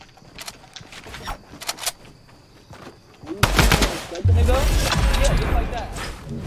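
Gunfire in a video game bursts in loud and dense after a quieter stretch, rapid shots crowding together near the end while players talk over it.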